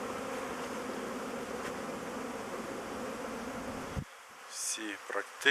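Honeybees swarm around the hives of an apiary on a cleansing flight, a dense, steady buzzing of many insects that holds evenly for about four seconds before dropping away to quieter, sparser sounds.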